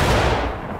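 Musket volley fired in the Civil War game War of Brothers: a single dense, loud burst of overlapping shots that rolls off into a fading rumble within a second, with no talk over it.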